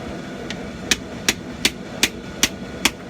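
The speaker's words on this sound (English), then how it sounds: "bend and hammer them together how you want them" A blacksmith hammers forging tong jaws around a piece of 3/4 inch square steel stock, giving seven sharp metallic strikes at a steady, roughly even pace, close and clear with no talking.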